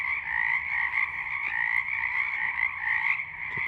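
A frog croaks outdoors on a cold night, a loud, close, continuous rasping trill that pulses slightly without pause and is heard alone.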